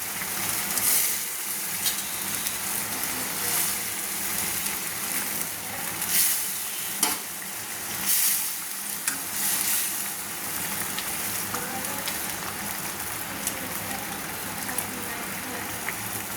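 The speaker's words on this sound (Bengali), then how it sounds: "এবার এক এক করে 4 পিস মাছ আমি দিয়ে দিচ্ছি।" Fish pieces cooking in water in a pan for a Bengali fish dish, a constant hissing, bubbling simmer with faint clatters and brief soft speech over it.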